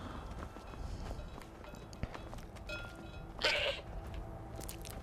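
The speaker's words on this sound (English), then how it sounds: "No, I do not want to talk to your damn goat." A goat in Skyrim lets out a short, loud bleat partway through, set against footsteps, clopping and ambient game noise.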